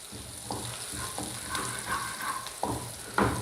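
Onion tadka with turmeric and red chili sizzles steadily in hot oil, with a few distinct scraping stirs of a spoon against the pan at intervals; close and fairly quiet, no talking.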